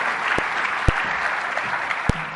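Audience applause welcoming a technological university at a formal lecture event: steady, dense clapping throughout, moderately loud, with a few sharper individual claps standing out.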